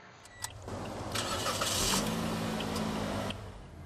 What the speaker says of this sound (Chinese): 踩刹车启动车辆引擎